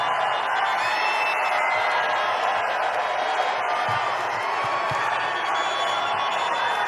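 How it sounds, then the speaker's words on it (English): A large outdoor political rally crowd in Maine roars steadily with cheering and whoops, a dense continuous wall of voices held at an even level throughout. "Boy, it's a nice crowd"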